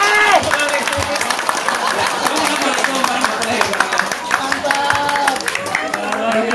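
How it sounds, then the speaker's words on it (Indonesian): Scout troop members at a Pramuka scout training forum perform the rhythmic scout clap together, a dense burst of patterned hand claps with voices and crowd chatter mixed in. "tepuk pramuka 2 kali"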